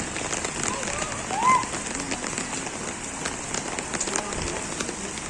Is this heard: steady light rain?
yes